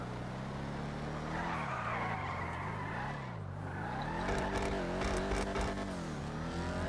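A Vapid Dominator GTX in a racing video game skids through a left turn on the handbrake, tires squealing steadily over a droning engine that rises and falls, loud and continuous.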